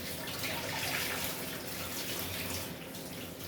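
Tap water runs steadily into a kitchen sink while radishes are washed, a continuous close splashing rush with no speech.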